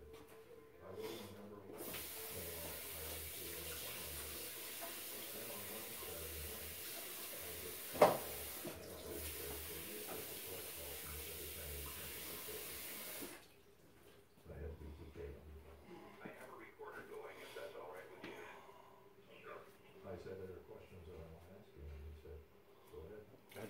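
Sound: tap water running while washing raccoon meat

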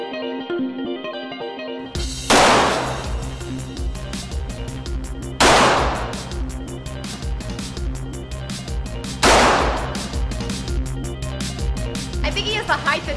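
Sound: gunshots from handguns and a rifle

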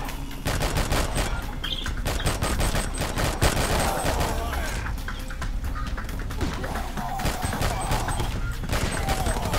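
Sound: gunfire shooting zombies in the video game R.I.P.D

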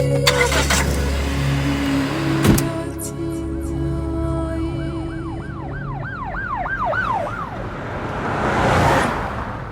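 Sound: car driving

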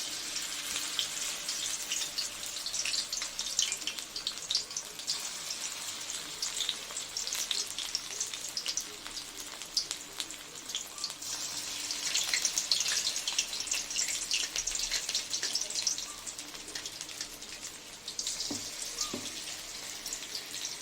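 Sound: bora fritters frying in oil

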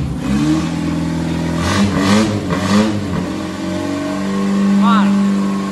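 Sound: car engine revving

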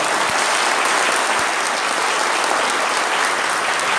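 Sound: audience applause for the mayor

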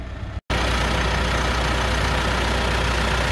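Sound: 2.4 liter clean diesel engine idling

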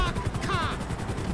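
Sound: randomized gun firing in video game GTA 5

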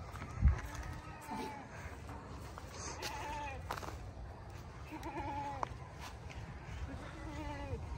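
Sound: goat bleating on goat farm

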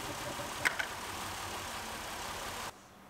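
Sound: Pontiac Grand Am engine idling

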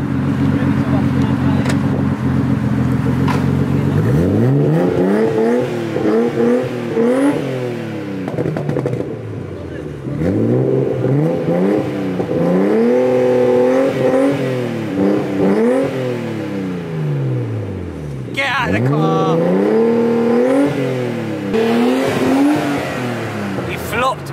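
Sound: Nissan Skyline Tommy Kaira Edition engine revving

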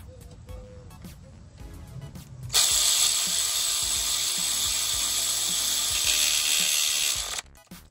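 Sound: ratchet tightening Toyota Corolla starter bolts

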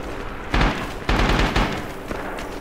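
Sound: grenade explosions in Rising Storm video game

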